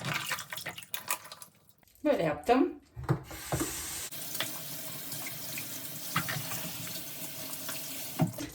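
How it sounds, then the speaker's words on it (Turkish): Tap water runs over a comb and brushes being rinsed in a sink, a steady close splashing stream that starts after a pause, with someone briefly speaking and laughing over it. "Son bir kere musluktan şöyle tutacağım."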